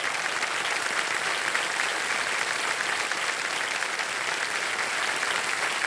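A studio audience on the Hindi TV quiz show KBC applauds contestants in a dense, continuous wash of clapping that stays evenly loud from start to finish, with no talking over it.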